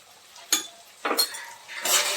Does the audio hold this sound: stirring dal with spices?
yes